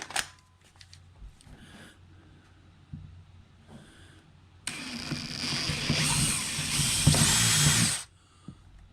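A power drill bores into the vent cap hole of a plastic fuel gas can, with brief handling noises first, then a loud, steady whine for about three seconds before it stops.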